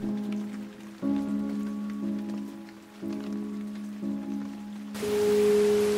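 Steady rain patters on a surface beneath a low sustained musical drone, growing into a denser hiss near the end.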